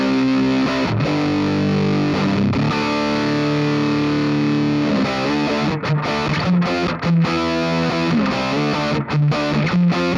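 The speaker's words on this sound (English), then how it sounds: "Yeah, it's a distortion, so that's pretty juicy" Electric guitar played through a homemade Fat Rat distortion pedal, with thick, saturated chords that ring and change, loud and steady, and no talking.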